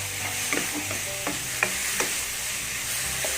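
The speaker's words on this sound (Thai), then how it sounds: "ผัดให้เข้ากันก่อนนะครับ ช้ไฟกลางนะะในการผัด" Pork belly and shrimp paste being stir-fried over medium heat, a steady close sizzle broken by a few sharp spatula scrapes and clicks against the pan, with no one talking.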